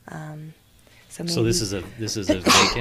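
A single short sneeze bursts out in a conversation about a vacant LDS church and homeless people, followed by someone talking.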